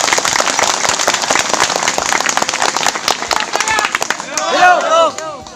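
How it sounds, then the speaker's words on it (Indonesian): Audience applause at a Dayak community gathering, loud dense clapping from a crowd filling the whole stretch, with a voice rising over it near the end. "Tepuk tangan untuk kalian semua."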